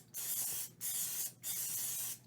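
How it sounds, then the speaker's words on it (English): Nonstick cooking spray hisses into a mug in three close, steady bursts separated by short pauses, with no talking. "we're going to spray this super well"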